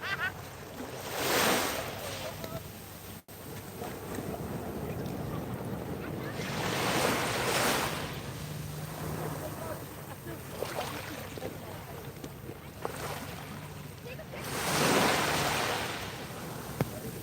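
Ocean waves roll in and break on a Hawaiian beach in several slow, loud surges, each swelling and fading over a few seconds, with steady wind noise buffeting the microphone between them.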